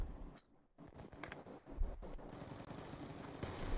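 Gunfire in a video game, rapid bursts and bangs of automatic weapons at close range, loud and dense with a brief lull near the start.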